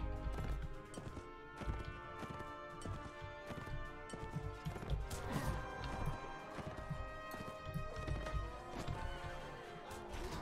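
Horse hooves clip-clopping in the medieval video game Mount&Blade Warband, a busy, continuous run of hoofbeats mixed with clatter and game ambience throughout, no speech.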